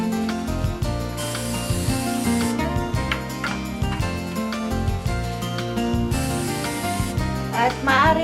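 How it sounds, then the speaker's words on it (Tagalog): Canola oil is sprayed from a can into a baking pan in a home kitchen: two short, hissing bursts over steady background music. "Sprayan ng canola oil ang lyanera."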